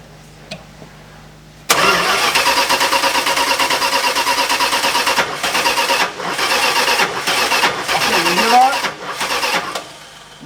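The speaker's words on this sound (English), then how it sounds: "You hear the way it's kicking back? That's telling me the ignition timing is too far advanced." A car engine with its ignition timing set too far advanced cranks loudly and kicks back. The starter churns in a steady, uneven rhythm with stumbling surges, and a voice speaks briefly near the start.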